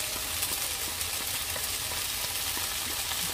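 Garlic chicken sizzles steadily in hot oil with masala, a continuous close, even frying hiss with faint spoon scrapes beneath, no voices.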